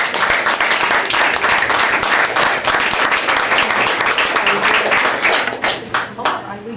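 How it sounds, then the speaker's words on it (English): Applause at a Pacifica School District board meeting, a smaller group clapping with distinct individual claps audible, steady then thinning to scattered final claps, with some voices underneath. "I think we should clap"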